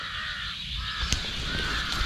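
A crow calls outdoors in the rain, a brief caw rising over steady rainfall hiss.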